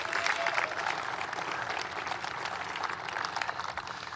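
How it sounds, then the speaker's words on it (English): An audience at a corporate event celebrating chip-industry funding bursts into sustained applause, a dense, fairly loud clatter of many hands with scattered crowd noise and no clear speech. "You should applaud that."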